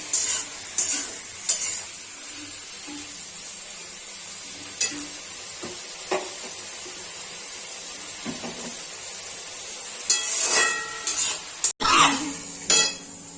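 Home-made chow mein stir-fried in a pan, with a soft hiss under intermittent scraping and tossing strokes of a utensil, a few sharper clatters near the end.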